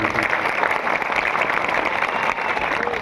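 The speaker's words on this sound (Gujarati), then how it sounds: "બધા માટે એકવાર આપણે જોરદાર તાળીઓ પાડીએ" Sustained, loud applause from a large audience at a political public meeting, dense clapping holding steady throughout with no speech over it.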